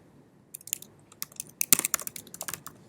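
Typing on a computer keyboard, a quick, irregular run of crisp key clicks close to the microphone after a brief quiet start, with no talking.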